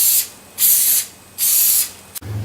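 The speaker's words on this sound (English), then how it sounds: "I'll give that a spray, with a cooking spray." Cooking spray hissing onto a 12-cup muffin tray in a kitchen, three short close bursts separated by brief pauses, ending with a faint clatter.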